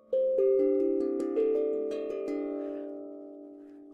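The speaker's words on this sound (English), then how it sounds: "this is what's called an Asian tom drums." An Asian tom drum is struck several times in quick succession, each note ringing with a clear pitched tone that blends and slowly fades away, heard alone and up close.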